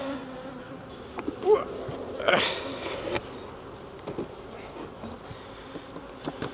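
Honeybees buzz at an open hive during a nuc split, a low steady drone with a few louder passes as bees fly close to the microphone.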